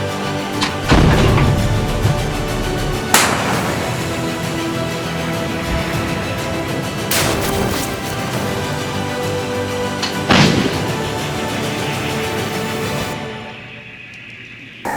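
A 2S1 self-propelled howitzer fires several massive blasts at intervals, each a sharp, deafening crack followed by a long rumbling echo, with heavy machinery droning between shots.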